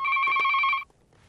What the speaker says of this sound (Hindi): हम रखते हैं फोन, दूसरा फोन आया है।